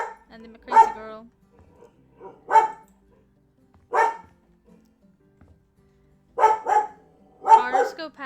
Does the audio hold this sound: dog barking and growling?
yes